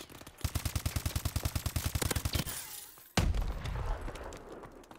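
Rapid automatic gunfire from the Call of Duty video game, a fast burst of around twenty evenly spaced shots, then a heavy blast followed by scattered crackling and rumbling, loud and close with no talk.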